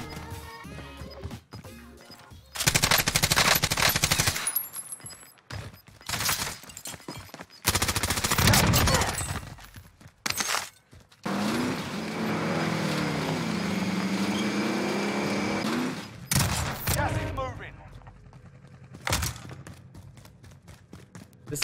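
Heavy bursts of automatic gunfire from a PKM machine gun in Warzone, loud and close, arriving in several separate volleys with brief gaps and other game sounds between them.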